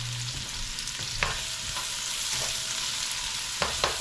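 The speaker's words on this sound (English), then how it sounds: "Let's put our aromatics in there. The onions, the garlic, and the hot pepper." Onions, garlic and hot pepper sizzle steadily in a hot pan for a spicy Sicilian tomato sauce, a constant close hiss broken by a few sharp clacks and scrapes of a spoon stirring.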